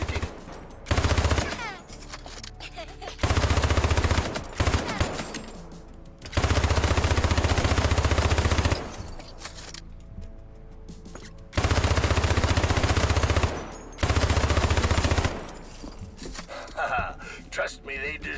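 Automatic weapon fire from a video game tutorial shooting at targets: loud sustained bursts of rapid gunfire lasting a second or two each, broken by short pauses and quieter stretches of game sound.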